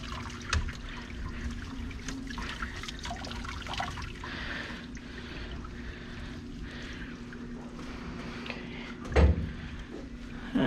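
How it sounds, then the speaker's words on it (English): Water trickles and drips as it is squeezed by hand from a soaked Cocker Spaniel's coat, a quiet, close splashing with a few soft thumps between the streams. "I'm just going to squeeze out as much water as I can."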